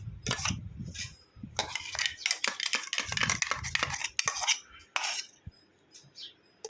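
Steel ladle and utensils clinking against a bowl as aam panna is transferred, a quick run of close metallic taps and scrapes with brief pauses.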